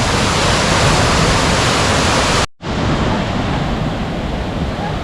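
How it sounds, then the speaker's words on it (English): Rushing water of the Munich river surf wave makes a loud, steady roar. It breaks off for a moment near the middle and then returns just as strong. "So yeah, it's the Munich River Wave."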